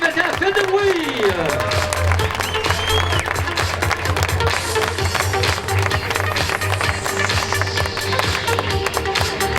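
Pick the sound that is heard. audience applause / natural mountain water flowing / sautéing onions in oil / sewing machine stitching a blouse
audience applause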